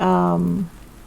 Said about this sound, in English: I'm just going to stand out here in the middle of the rain for a minute